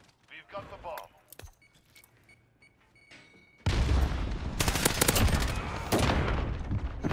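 M4 rifle fire in a Modern Warfare search-and-destroy match starts after a quieter stretch of game sounds, then comes as loud, rapid bursts of gunfire that continue to the end.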